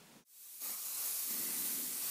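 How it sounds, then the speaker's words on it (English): Clear lacquer spray hisses from an aerosol can onto a surface being sealed, a short pause at the start followed by a steady, fairly soft continuous spray with no talking. "The Clear Lacquer goes on first, sealing the surface"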